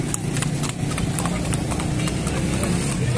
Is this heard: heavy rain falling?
no